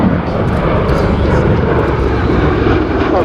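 An MV-22 Osprey tiltrotor makes a high-speed pass at a military air station airshow, a loud continuous engine and rotor roar filling the whole stretch while an announcer talks over it.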